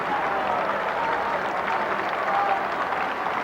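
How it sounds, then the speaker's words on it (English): A cricket crowd cheers and applauds steadily and loudly after a wicket falls at a West Indies v England Test match in Jamaica in 1990. The broad roar holds for several seconds with no pause. "the English crowd here are delirious"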